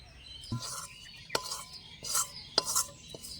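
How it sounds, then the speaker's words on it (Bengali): Cooked vegetables mixed into a leftover-rice batter with a spoon, a few separate soft scrapes and knocks against the bowl with quiet gaps between them, faint chirps of birds in the background. "এবার আমি সবজিটা ভালো করে মিশিয়ে নেব"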